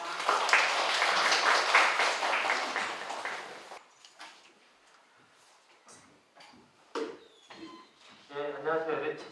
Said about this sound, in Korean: 환영의 박수로 맞이해주시면 감사하겠습니다